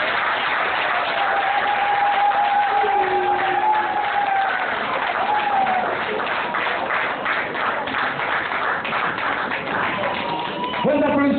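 Sustained applause from the audience at a political party general assembly, a dense steady wash of clapping lasting throughout with voices mixed in.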